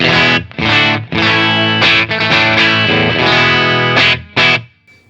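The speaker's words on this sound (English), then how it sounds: "Typical Tele kind of sound." Telecaster electric guitar playing ringing chords in a clean, bright tone with no gain, short pauses between strums and no talking.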